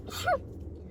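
One short, quiet sneeze, a quick breathy burst with a brief voiced edge, heard over a low background hum during a tabletop board game session about mountains.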